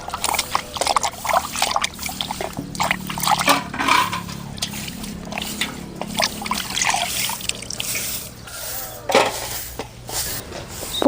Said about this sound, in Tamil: பூசணிக்காயை சுத்தமாக அலசி எடுத்துக்கலாம்.